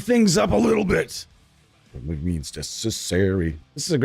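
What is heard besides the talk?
No everyday noises stand out.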